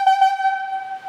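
Highlead logging whistle signalling for the straw line back on the haul back: a loud, steady, reedy tone with a couple of quick pulses at the start, then one sustained blast.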